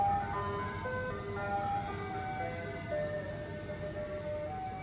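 An ice cream truck jingle plays a tinkling, repeating melody, loud and close, over a low idling engine rumble.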